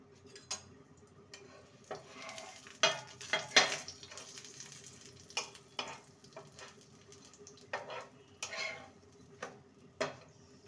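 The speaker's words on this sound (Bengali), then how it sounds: "পরোটাটাকে এপিট উপিট ভালো করে ভেজে নিয়েছি" A sweet potato paratha fries in refined oil with a steady low sizzle, broken by sharp clinks and scrapes of a utensil against the pan at irregular intervals.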